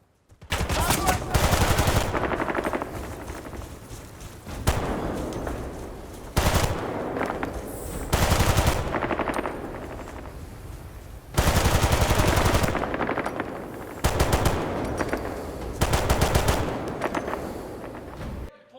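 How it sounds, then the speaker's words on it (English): Dense bursts of rapid automatic video game gunfire, loud and continuous, broken by brief pauses between volleys. "the sound of guns and how they reacted to the environment"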